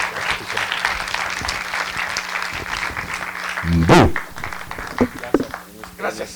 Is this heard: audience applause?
yes